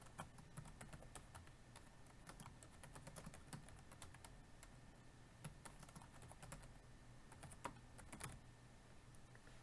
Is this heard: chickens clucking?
no